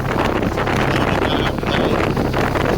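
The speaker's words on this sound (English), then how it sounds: "Very windy, as you can hear." Strong wind buffeting the microphone in a constant loud roar at the start of the Great Ocean Road, with no pauses or voices.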